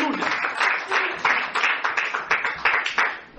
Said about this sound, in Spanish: Denle un aplauso al Rey del Día.